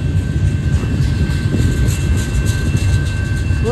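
A Union Pacific and Kansas City Southern freight train rumbles past close by on the Palmdale cutoff in Blue Cut, with deep, steady engine and wheel roar and a thin tonal whine above.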